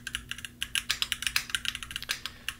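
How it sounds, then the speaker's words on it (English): Crisp clicking keystrokes from a mechanical keyboard, a steady run of about twenty close, sharp taps at an even typing rhythm with no talk over them. "I'm really looking for a mechanical keyboard, right?"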